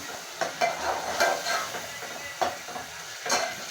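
Ground garlic, ginger and green chilli masala frying in oil for chicken masala tikka, a steady close sizzle broken by a few sharp clinks and scrapes of stirring.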